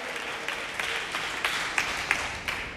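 A church congregation clapping together, a steady wash of many hands with a few louder claps standing out, sustained and moderately distant, with no speech.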